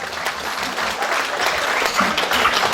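Wedding guests at a Kyrgyz celebration in Krasnoyarsk clap together in a dense, steady burst of applause that fills the room for about three seconds.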